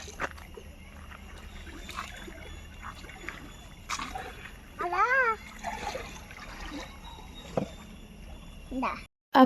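A child steps into shallow pond water during an evening family walk, splashing and sloshing softly in short bursts while voices talk nearby and a child vocalises.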